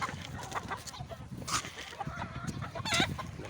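Chickens being fed cluck in short, scattered bursts, fairly close, with a busy outdoor background and no clear talking.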